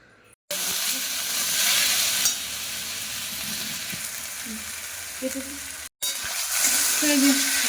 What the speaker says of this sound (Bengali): আলু ভাজা বসিয়ে দিয়েছি